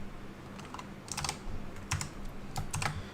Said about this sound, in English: I'm typing not looking at the keyboard